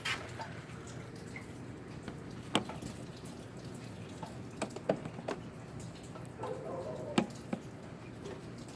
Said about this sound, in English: There's like a lot of water from that unit.